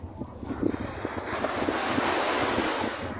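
Strong ocean surf pounds a beach in a steady, loud wash of roaring water, with gusts of wind buffeting the microphone and no voices.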